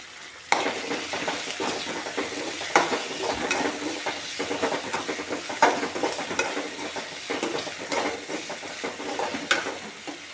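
Curry leaves crackle and sizzle in hot oil for a Gujarati-style vegetable sabji, a steady close frying hiss with repeated sharp pops and spatters and occasional stirring, no voices.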